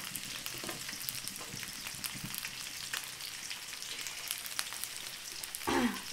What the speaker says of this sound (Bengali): এখানে পেঁয়াজ ভাজা